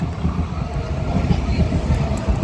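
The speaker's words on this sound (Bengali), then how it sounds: "এই যে ট্রেন যাচ্ছে" A train rumbles past near a Portuguese village weekly market, a steady low mechanical roar filling the background at moderate volume, with faint voices mixed in.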